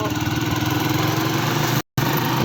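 Big bike motorcycle engine running nearby, a loud steady pulsing idle with even throbbing, cut by a brief dropout near the end.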